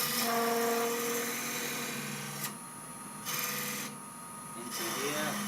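Spindle gouge cutting wood on a lathe while turning a long-stemmed goblet: a steady, loud rasping whir that drops out twice briefly, then resumes.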